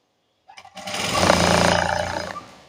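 Sewing machine stitching blouse cloth, a steady mechanical whirr that starts after a brief pause and runs continuously at close range, with no talk.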